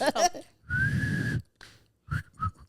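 A person whistles a single sustained note, close and clear, between brief bits of talk.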